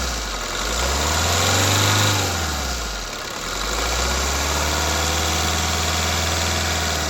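A 2009 Maruti Swift VDI diesel engine idles, then is revved up and back down twice, its rising and falling drone loud and close with no talk over it.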